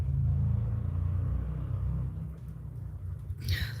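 A big truck drives past outdoors, its deep engine rumble steady and fairly close at first, then easing off as it moves away, with a brief brighter swell near the end.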